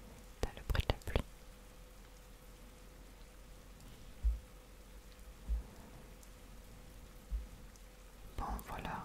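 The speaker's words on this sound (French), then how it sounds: "T'as le bruit de la pluie." Soft, steady rain falls in the Throne and Liberty video game, a faint continuous hiss beneath close whispering, with a few quiet thumps and taps along the way.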